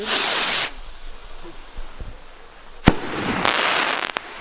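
Bomba JR71 firework rockets bursting overhead, with a loud broadband crackling burst at the start, a quieter lull, then a sharp bang followed by renewed crackling and scattered pops, heard outdoors with no talk.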